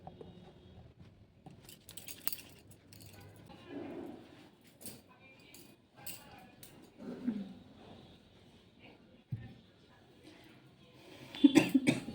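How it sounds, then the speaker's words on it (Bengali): A few scattered coughs and throat sounds from a woman with a lingering cough, fairly close, among quiet household clatter and brief murmured speech. "কাশিটা এখনো সারছেই না।"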